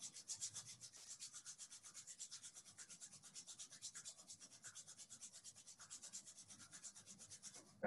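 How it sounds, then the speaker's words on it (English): Two hands rubbing briskly together during a morning yoga warm-up, a steady quick swishing friction repeated rhythmically and close, with no voices over it. "Bring your hands together. Keep rubbing them."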